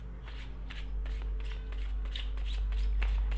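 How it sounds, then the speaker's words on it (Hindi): Tarot cards being shuffled by hand, a continuous close riffling flutter of rapid soft card flicks over a steady low hum, with no one talking. "कार्ड शफल कर लेते हैं।"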